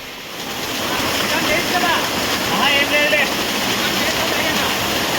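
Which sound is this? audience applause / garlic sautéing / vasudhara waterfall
vasudhara waterfall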